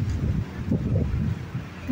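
Steady low wind rumble buffeting the microphone, a continuous outdoor gusting roar with no voices.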